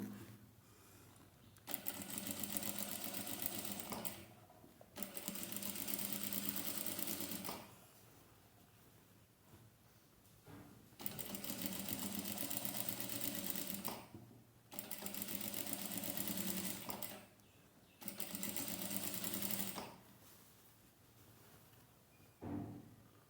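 A sewing machine stitches a waistband onto a wrap-around skirt, running in steady whirring bursts of a few seconds each. Short pauses separate the bursts. The machine is close and fairly quiet, and no one talks.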